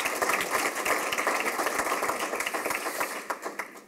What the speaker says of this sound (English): So a quick round of applause for Mark,